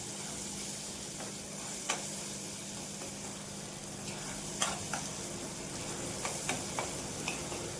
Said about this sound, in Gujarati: નાખ્યા બાદ થોડું હલાવશું, જેથી કરી ટમેટા અને મરચાં બે થોડા સોફ્ટ થઈ જાય